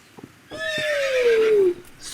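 A robotic toy horse gives a long, clear neigh as it rears, a single drawn-out whinny that falls in pitch, with faint taps before it and a brief voice sound at the end.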